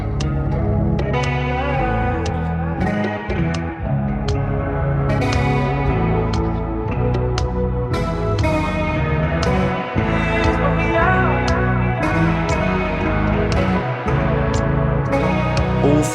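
Electric guitar shaped into a dreamy, washed-out tone with Ableton stock effects, a dense continuous wall of chorused, echoing, reverberant chords and notes that stays loud and unbroken, with no one talking.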